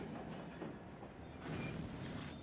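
Train rolling through a scene in the video game Alan Wake, a steady rumbling clatter of wagons and rail noise that swells slightly toward the end, with no voices.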